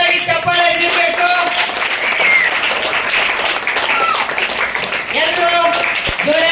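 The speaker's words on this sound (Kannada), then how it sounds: "ಎಲ್ಲರೂ ಜೋರಾಗಿ ಚಪ್ಪಾಳೆ ಹೊಡೆದ ಮೂಲಕ ಅವರಿಗೆ ಅಭಿನಂದಿಸಬೇಕು" Dense, loud applause fills a Kannada quiz programme as everyone cheers the winning student Srikanth, the clapping continuing throughout with voices speaking over it.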